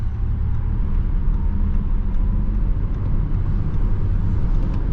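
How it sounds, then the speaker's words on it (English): 2025 Audi A6 e-Tron Sportback electric car accelerating at full throttle at highway speed, heard as a constant low rumble of road and wind noise inside the cabin, steady and fairly loud with no voices. "So that was full throttle in the A6 e-Tron."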